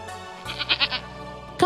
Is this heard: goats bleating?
yes